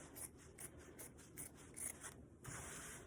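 Scissors snip around a circle of fabric for a beret, a quiet series of soft, rhythmic rasping cuts repeating roughly every half second.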